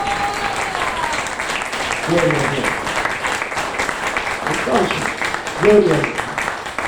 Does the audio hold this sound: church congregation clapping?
yes